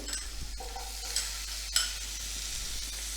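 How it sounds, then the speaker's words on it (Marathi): Onion, green chilli pieces and a ginger, garlic and coriander paste sauté quietly in a pan, with a low, faint sizzle and a few light spoon scrapes and taps while being stirred. "आणि चांगलं सगळं परतून घ्यायचं"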